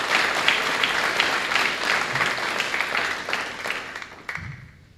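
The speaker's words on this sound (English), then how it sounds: "So let's give Cutler a round of applause for his team." Applause from a banquet audience at a school FFA awards event fills the room, a dense steady wash of many hands that gradually thins and fades out near the end, with no talking over it.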